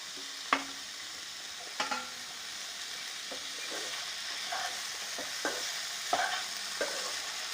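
Okra (bhindi) fries in a pan over low heat with a steady broadband sizzle, while a spatula scrapes and stirs in sharp clicks every second or so, close and moderately loud with no voices.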